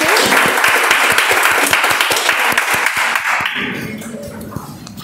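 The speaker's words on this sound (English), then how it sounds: "Can we have a better round of applause for first table topic speaker, Toastmaster Sukesh?" Members at a Toastmasters club meeting give loud, close applause with sharp individual claps for a table topics speaker, then it tapers off as a low voice begins underneath.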